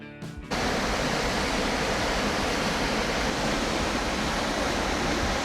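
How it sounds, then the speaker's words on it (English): The White Drin waterfall roars as a steady, loud, broadband rush of falling water, starting abruptly after a brief moment and continuing without break. "And the White Drain waterfall."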